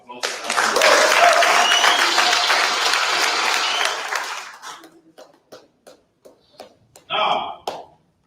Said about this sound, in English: You must give yourselves a round of applause.